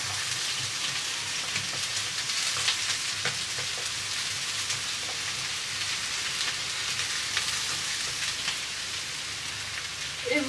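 Ingredients fry in olive oil in a pan for a salmon tartiflette, giving a steady, close crackling sizzle that runs unbroken with no talk over it.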